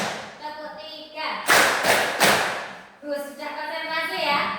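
A class of children claps in a counted pattern, a few sharp bursts of hand claps amid chanting young voices, close and fairly loud in a classroom.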